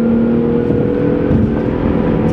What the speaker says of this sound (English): It's a nice intake growl on that V6.